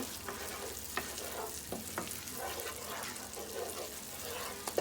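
Whole spices, star anise, cumin seeds, black and green cardamom, lightly frying in oil for green chilli chicken, giving a soft steady sizzle with faint stirring clicks throughout, close and low in level.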